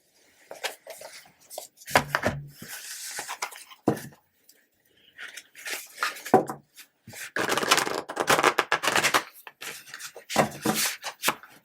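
A deck of oracle cards is shuffled by hand, quick papery riffles and taps coming in irregular bursts with short quiet gaps, close and fairly soft.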